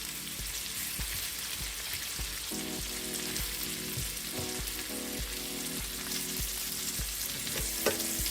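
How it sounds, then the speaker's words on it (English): Shrimp sautéing in a hot pan for a garlic butter shrimp and broccoli stir fry, a dense steady sizzle with occasional clinks and scrapes of a utensil stirring, close and continuous with no talking. "we just want to saute them for about 4 minutes"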